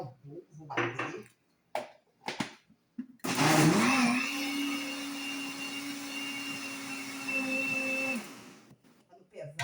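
Blender mixing flour into batter for a chicken pie, a few clinks and talk first, then a loud steady whir running for about five seconds before it stops.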